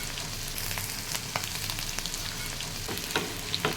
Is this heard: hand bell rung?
no